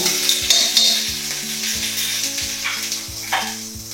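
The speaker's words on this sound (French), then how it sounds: "Nous allons commencer à sauter nos légumes, qui va être notre garnitière de base, avec l'huile, l'ail," Vegetables sauté in oil with garlic and ginger, a loud continuous sizzle close up, with a tonal hum and a few knocks under it and no speech.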